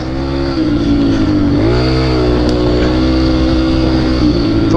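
A pit bike engine drones loud and close on a dirt track, holding a steady buzzing pitch with a brief dip and rise in revs partway through, running alone without talk.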